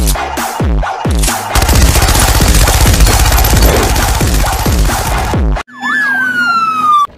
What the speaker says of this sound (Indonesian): Lihat, ada mobil polisi teman-teman.